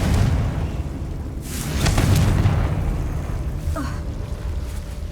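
The Confringo fire spell bursts in Hogwarts Legacy with a loud, booming fiery explosion that swells and rolls off, followed by a second, smaller burst and a lingering low rumble, with no talk over it.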